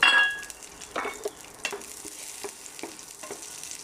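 A tempering of black cumin and green chillies sizzles softly in mustard oil, a low crackling hiss punctuated by a string of irregular scraping and clinking stirs, with no talking.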